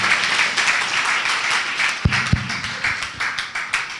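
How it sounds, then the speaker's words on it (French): Church congregation standing and applauding loudly in a large worship gathering, with dense continuous clapping and a few sharper claps standing out partway through. "Qu'on acclame très fort."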